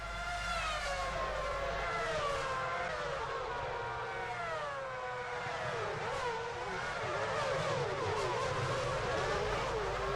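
Race cars in the F1 Championship Edition video game at the Japan circuit, a continuous loud whine of several engines with shifting, wavering pitch as they pass, heard alone without talk.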